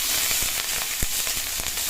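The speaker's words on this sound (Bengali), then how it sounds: "যে কড়াইতে মাছ ভেজেছিলাম সেই কড়াইতে আবার তেল দিয়ে রসুন দিয়ে দিলাম" Garlic with green and dried chilies frying in hot oil in a wok previously used for frying fish, a steady close sizzle with a few soft stirring knocks and no talk.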